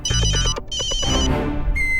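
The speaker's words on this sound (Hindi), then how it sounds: "हाथी भाई का फोन" A phone ringtone plays in two bright, repeating electronic bursts, followed by a short rising tone at the end, loud and close.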